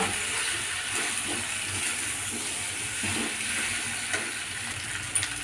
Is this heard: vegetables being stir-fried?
yes